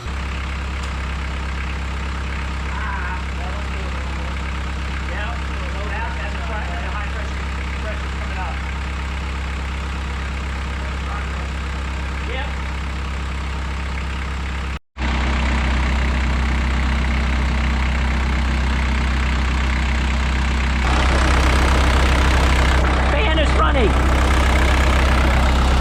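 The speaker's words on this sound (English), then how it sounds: "Compressor is running, and ice cold air." A 1986 VW Jetta engine idles with its A/C compressor running, a steady low rumble that drops out briefly, then returns louder and fuller, with a voice talking over it.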